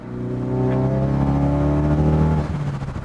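A turbocharged Ford Focus RS with a loud 3-inch exhaust revs hard close by, a droning, rising engine note that holds for about two seconds before cutting off abruptly.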